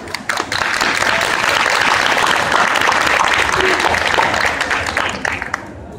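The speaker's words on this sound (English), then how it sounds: "let's give a huge round of applause" An audience breaks into loud, sustained applause that swells quickly, holds for several seconds, then tapers off near the end.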